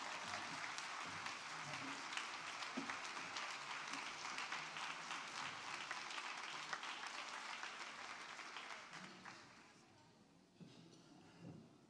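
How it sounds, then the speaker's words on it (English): Applause at a women's policy roundtable luncheon as a speaker walks to the stage, a broad sustained wash of clapping from the audience that fades toward the end, with a few faint voices emerging afterward. "I want everyone to give her a huge round of applause as she comes to the stage"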